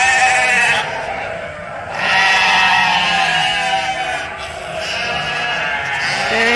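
A group of ewes in their pen bleats loudly at feeding time, overlapping calls rising and falling close by with almost no break.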